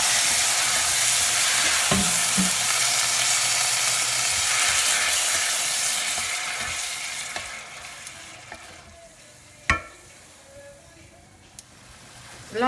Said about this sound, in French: Là, je vais jeter les fameux champignons noirs. On va rajouter un petit peu d'eau.